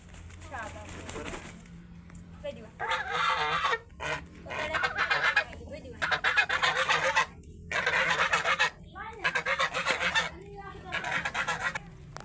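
Ducks quacking loudly and repeatedly in noisy bursts with short pauses between, close by, over a low background hum.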